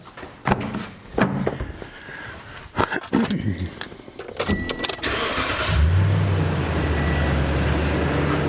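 Bumps and a voice come first, then a car engine cranks briefly during a battery test and catches, settling into a loud, steady running rumble nearby.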